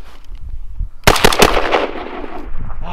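Rapid automatic gunfire fired at a BulletSafe bulletproof vest: a loud, close burst of fast shots after a second of quiet outdoor ambience, fading into a lingering echo.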